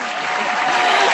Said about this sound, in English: Oh, you want the round of applause for real?